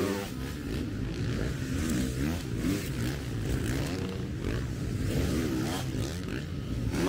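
Motocross motorcycles at a World Motocross Championship race, their engines revving in a continuous gritty roar from a moderate distance, with faint voices mixed in.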